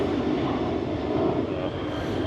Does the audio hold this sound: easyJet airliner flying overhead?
yes